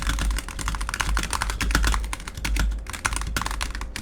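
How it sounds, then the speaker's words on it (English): Rapid, irregular clatter of fingers typing on a computer keyboard during a team-based game, the keystrokes dense and close-up with no talk over them. "they just type in chat"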